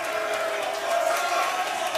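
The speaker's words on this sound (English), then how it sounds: "The crowd is so hyped right now" Live crowd cheering and whooping at Lucky's Pub in Houston, a dense, steady roar of many voices filling the room for the whole moment.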